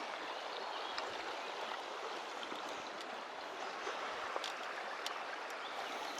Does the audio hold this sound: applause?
no